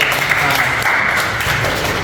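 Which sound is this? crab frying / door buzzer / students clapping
students clapping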